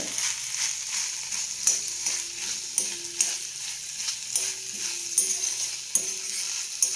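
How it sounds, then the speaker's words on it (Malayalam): Potatoes fry in a pan with garam masala, coriander and chili powder for a masala dosa filling: a soft continuous sizzle broken by regular scraping stirs of a spoon against the pan, close and moderately quiet, with no talking. "ഗരം മസാലപ്പൊടി അല്പം മല്ലി മുളക് പൊടി വറുത്ത് കൊടുക്കുന്നുണ്ട് അത് ഇട്ട് കൊടുക്കാം ഉരുളക്കിഴങ്ങ് വെന്ത് വരുന്നുണ്ട്"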